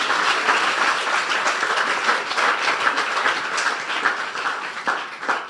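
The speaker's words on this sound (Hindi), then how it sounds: "जोरदार तालियां इस बच्चे के लिए बजा दें" A church congregation in Dubai claps loudly and continuously for a child, a dense, sustained round of applause filling the hall with no talking over it.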